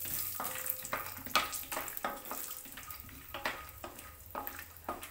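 Almonds roasting dry in a pan for homemade puffed-rice namkeen, giving a light crackle with repeated scraping stir strokes about every half second, close and steady, with no talk.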